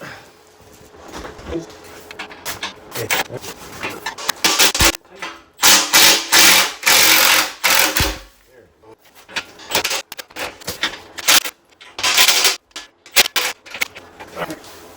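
Ratcheting metallic clicks and clanks come from a wrench loosening a bolt on a snow plow part, in irregular bursts with pauses, fairly close and loud.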